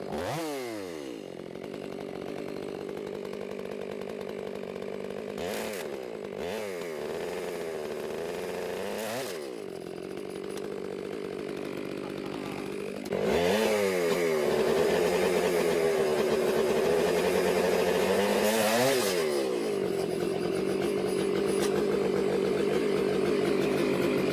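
Husqvarna chainsaw cutting through logs, its engine revving loudly and steadily with repeated pitch swells as it bogs and climbs, settling back to a high whine between cuts, close and continuous with no talk.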